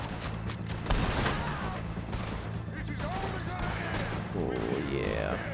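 Gunfire in Red Dead Redemption 2, several sharp shots cracking over a busy game soundscape with music and ambient effects, moderately loud throughout.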